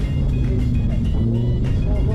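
A Lamborghini off-road supercar drives hard with a steady, loud engine and road rumble throughout, close and continuous, with a voice speaking over it.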